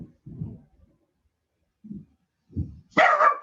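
Household dogs bark indoors in short, separate bursts, a few low woofs spaced apart and then a louder, higher yelping run at the end, heard alone without talk.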